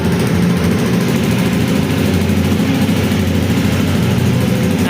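A 2018 Honda CB300R Limited motorcycle with about 1,100 km on it runs steadily close by. The engine makes a loud, even drone with no change in revs and no talking.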